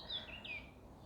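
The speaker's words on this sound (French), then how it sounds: "Je suis accompagnée par des petits oiseaux que vous allez entendre." Small birds outdoors give a brief, thin high whistle in two quick descending strokes, faint and distant over a soft background hiss.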